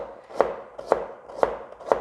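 Four evenly spaced knife chops through celery against a cutting board, crisp and close, in a steady rhythm with no talking.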